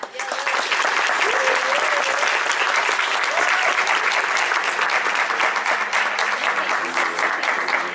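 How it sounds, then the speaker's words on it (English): At a board of education commendations ceremony, an audience claps loudly and continuously for an honoree, with a few faint voices rising through the steady applause. "she gets a special applause because our name's on my list"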